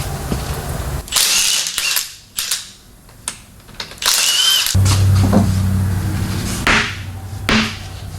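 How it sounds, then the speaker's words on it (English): Work on a Dodge Stealth R/T to reinstall the crank pulley brings a run of sharp metallic clicks and clanks from tools and parts, with loud impacts around the start and middle and a low mechanical hum later. "Let's pull the wheel and put the crank pulley back on."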